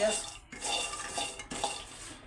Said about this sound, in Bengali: চিরা ভাজার মধ্যে বাদাম দিব এই জন্য বাদামটা ভেজে নিচ্ছি আগে